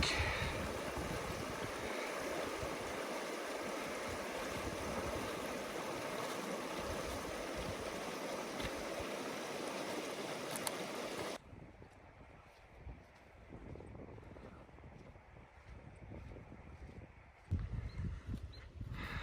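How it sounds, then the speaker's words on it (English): Flowing water of Thorofare Creek in the Teton Wilderness near Yellowstone, a steady broadband rush that is loud for about eleven seconds and then drops to a quieter, softer wash with wind noise on the microphone, and no talking. "We're crossing Thorofare Creek."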